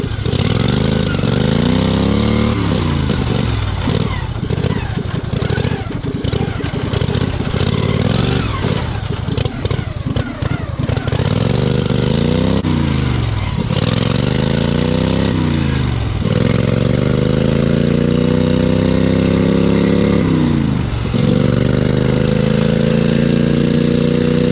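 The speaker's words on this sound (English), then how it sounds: "I love this engine." A race mower's engine runs while being ridden, a loud buzzy drone rising and falling repeatedly as the rider revs and eases off, close and continuous.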